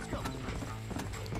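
Rapid hoofbeats of a galloping horse in Red Dead Redemption, steady and driving, with a busy game-like background mix throughout.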